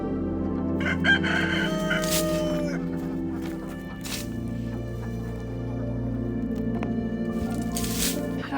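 A rooster in a chicken tractor crows loudly and close, the long cock-a-doodle-doo call rising and drawn out, with other fowl clucking and squawking around it and no talking.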